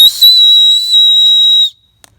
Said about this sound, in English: You've got a security whistle or an emergency whistle